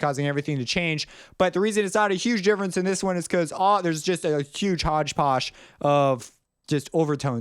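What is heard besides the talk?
None of the usual background noises is heard.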